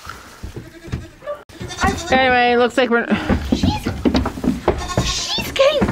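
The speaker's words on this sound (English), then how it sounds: "like the friendliest older goats that we have" Goats in a farm pen bleat loudly and repeatedly, including a drawn-out wavering call, with someone talking close by between and over the cries.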